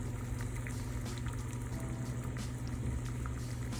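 Steady bubbling and rumbling of water at a rolling boil in a pot with chai tea added, a continuous dense churn that stays even throughout.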